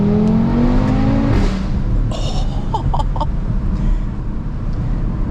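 An Audi RS3 on new wheels revs hard with a rising engine howl, then drops off into a loud, rumbling idle broken by crackles and pops from the exhaust, close and with no talk.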